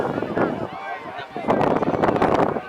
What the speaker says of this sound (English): you hear the wind picking up a little bit